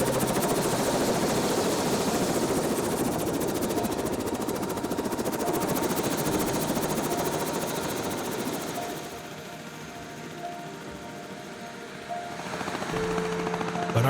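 A helicopter's rotor thumps loudly and continuously nearby, then briefly fades and softens before swelling back up.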